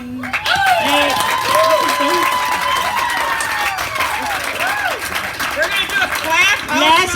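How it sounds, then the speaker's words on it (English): An audience applauds for Ricardo at a summit gathering, with steady close clapping mixed with whoops and cheering voices throughout. "Let's have a big clap for Ricardo."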